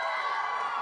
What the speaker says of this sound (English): let's give another gentle round of applause for our students from Dora Moore School